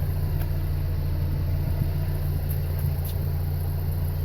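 A 1990 Mazda Miata engine idles steadily up close, a low even rumble with a constant hum and no change in pitch; nobody speaks.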